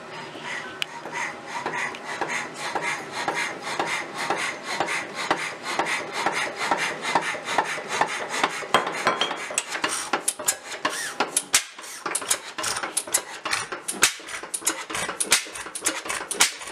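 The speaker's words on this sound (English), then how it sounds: "piston makes a lot of noise itself." A rebuilt 7.5 HP Elgin outboard engine runs on test with a dense, rapid mechanical clatter, steady at first and then more ragged and uneven in its last few seconds.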